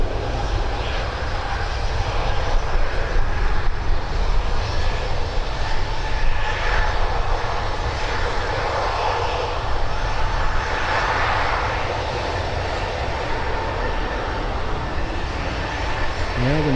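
A SunExpress airliner departs Birmingham Airport with a loud, continuous engine roar that holds steady throughout, dense and close, with no voices over it.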